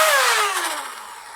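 Toy blaster flywheels spin up from a half trigger pull on a Real Steel-inspired foam dart blaster, a loud close electric whine that winds down in pitch and fades over about a second.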